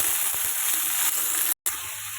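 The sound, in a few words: potatoes frying with onion, garlic and green chillies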